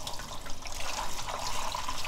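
Soaked miyeok seaweed is rinsed under running water for a steady, close splashing and rushing wash that holds at an even level with no voices.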